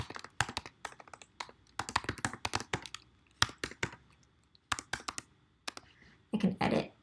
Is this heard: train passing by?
no